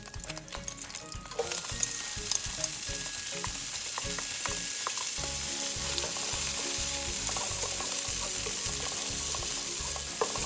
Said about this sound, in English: cook this around and saute the vegetables